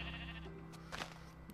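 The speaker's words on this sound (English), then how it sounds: "they're sheep!" Sheep bleating in Minecraft on Xbox 360: a single nasal blocky bleat rises in the middle over a steady game-music hum, with no talking.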